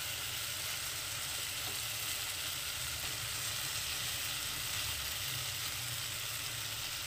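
Chicken pieces frying in a pan of spiced masala cooked down until the oil separates, a steady, close hiss and sizzle throughout with no talking.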